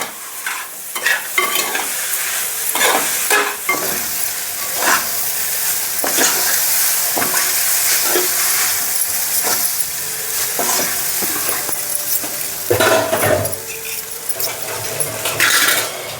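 Chicken noodles tossed and stirred in a hot pan, with a steady sizzle under repeated scraping and clattering strokes of a utensil against the metal, continuous and close throughout.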